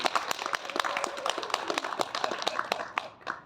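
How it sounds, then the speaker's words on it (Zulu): Audience clapping at a gathering, scattered individual claps with uneven rhythm, fairly close and moderately loud, thinning toward the end. "simshayela ihlombe"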